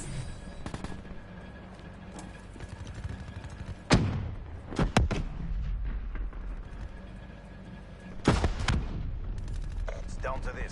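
Heavy artillery strikes and gunfire in a Call of Duty–style shooter, with two big booming impacts about four seconds apart over a continuous bed of rattling shots and battle noise, and a voice talking underneath.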